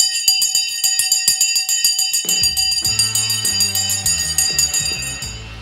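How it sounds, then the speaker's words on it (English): Stock market closing bell ringing in rapid, evenly spaced strikes, loud and sustained, joined partway through by a deeper repeating tone pattern beneath the metallic ringing until the end. "The bell has gone."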